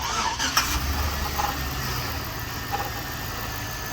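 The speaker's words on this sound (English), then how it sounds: "Sound like power steering." A 110K-mile Ford Explorer idles steadily with a low rumble, while a faint, thin whine from low power steering fluid runs above it. It sounds close, with a few soft knocks and no talk.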